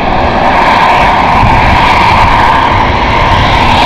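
An EasyJet airliner passes close overhead at Stansted Airport, a loud, steady broadband engine roar that holds level throughout with no break.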